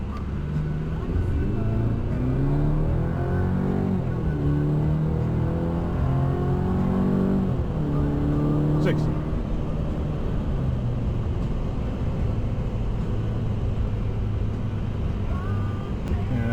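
2023 Chevy Colorado ZR2 Desert Boss pickup truck accelerating hard, its engine note climbing steadily and loudly through gear changes with a continuous close-up roar.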